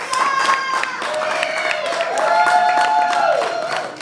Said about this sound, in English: You guys start clapping right now. Just start clapping. Everybody do a little bit. Keep it going.